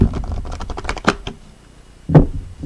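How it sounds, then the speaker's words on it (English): Halloween-themed oracle cards being shuffled by hand, a run of quick, close, crisp riffling taps followed by a pause and one louder slap of the deck. "I want to show you guys that I am shuffling them."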